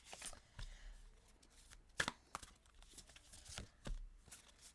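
Tarot cards are shuffled and riffled close by, with soft irregular flicks and taps and a few sharper snaps, quiet and without talking.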